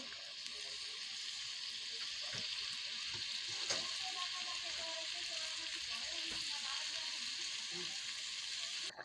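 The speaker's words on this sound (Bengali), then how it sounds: "নতুন আলু দিয়ে টমেটো দিয়ে ডিম ভেজে রান্না করছি" Eggs fry in a pan with new potatoes and tomato, giving a steady, dense sizzle with small pops and crackles that continues evenly throughout.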